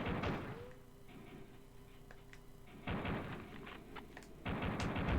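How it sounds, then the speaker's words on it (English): Explosions in the N64-style game Pirate Booty from Super 64 332-in-1, a few heavy, noisy booming bursts with quieter stretches and a short tone between them. "Those explosions were very N64-y."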